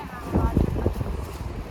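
Gusty wind buffets the microphone beside a river at Patan, a low rumbling roar that swells and dips in bursts throughout, with a voice faintly mixed into the noise.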